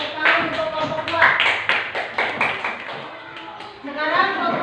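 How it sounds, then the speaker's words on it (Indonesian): A classroom group claps for fellow students after their presentation during a teacher-training workshop lesson, with a close patter of hand claps and taps mixed with children's voices. "Tepuk tangan untuk kelompok 2"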